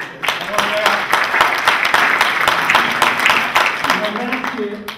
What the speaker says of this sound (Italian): per la quale propongo un meritato applauso.